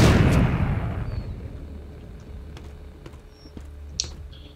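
A grenade detonates in the zombie shooter The Walking Zombie 2, opening with a loud booming blast that rumbles and fades over a few seconds, followed by faint game clicks and small effects.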